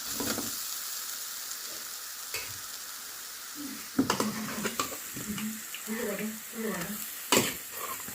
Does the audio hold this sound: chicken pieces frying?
yes